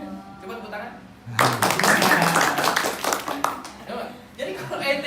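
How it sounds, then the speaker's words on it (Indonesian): Audience clapping at an internal evaluation gathering, a dense burst of hand claps starting abruptly, loud and sustained for several seconds, then thinning out with scattered claps and some voices mixed in. "Coba tepuk tangan."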